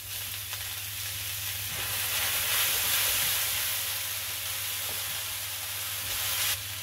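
Noodles frying in a pan with sesame oil give a steady, close sizzle and hiss that holds evenly throughout, with a few faint stirring scrapes and no talking.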